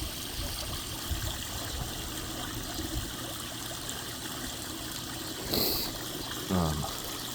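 Steady water trickling and splashing from a garden fountain, a continuous close wash with a brief louder splash near the end.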